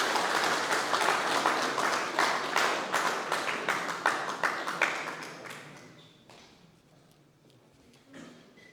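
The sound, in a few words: audience applause welcoming a speaker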